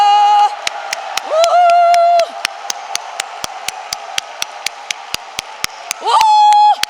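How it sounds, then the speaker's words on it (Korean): A young congregation at a Korean Christian prayer conference claps in a steady, even rhythm, sharp in-unison beats broken by a few long, drawn-out whoops and cheers from the crowd. "우리 성령님께 최고의 박수를 드립니다"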